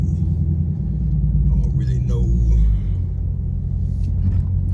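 Dodge Charger rolling out of a shop, a steady low engine rumble close up with a brief swell midway, while people talk over it.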